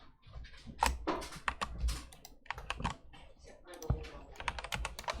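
A computer keyboard clatters with irregular keystrokes and some heavier thumps at close range, while voices talk over part of it.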